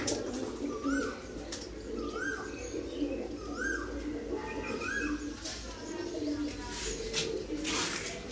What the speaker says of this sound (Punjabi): ਇਧਰ ਗੜਕੀ ਜਾਂਦੇ ਕਬੂਤਰ